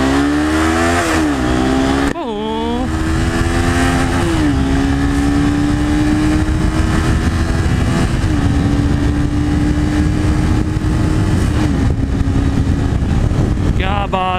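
Honda CBR 250R motorcycle accelerating hard down an empty road through its six gears, engine note climbing in loud, steady pulls with brief dips at each gear change, close by and continuous.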